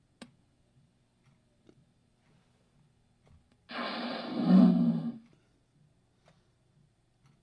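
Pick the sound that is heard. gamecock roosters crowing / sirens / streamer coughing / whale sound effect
whale sound effect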